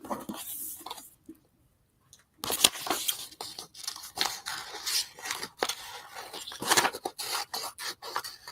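Paper is trimmed for a collage poster with a series of close, quick scissor snips and scraping rustles, irregular and fairly quiet, with a brief silent pause near the start.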